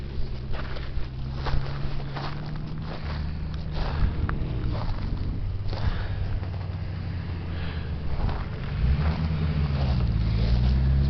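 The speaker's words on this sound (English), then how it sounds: "Here comes a car." A car passes on a dirt Forest Service road in the San Bernardino National Forest, its engine rumble and tire noise rising steadily and growing louder toward the end, with no one speaking.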